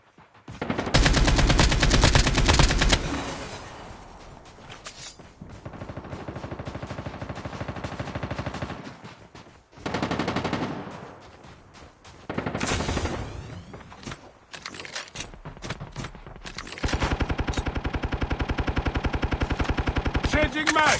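Fennec submachine gun in a battle royale video game firing long, rapid full-auto bursts, loud and close, with short pauses between strings of shots.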